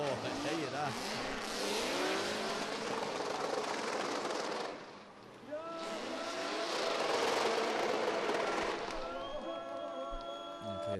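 Drift cars at an international drift championship in Oman accelerate hard with engines roaring and tires squealing in long, loud wails, broken by a brief lull before another high-revving pass. A commentator talks over the noise.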